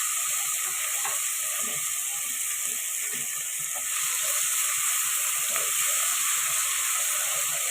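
Ginger garlic paste fries with onions in a pan for Andhra-style coconut rice, giving a steady, moderately quiet sizzle with faint stirring scrapes and no speech.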